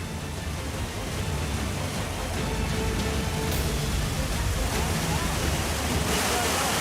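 Fast floodwater rushes through a drain in a steady, dense roar that continues unbroken throughout, close and moderately loud, with no clear voices above it.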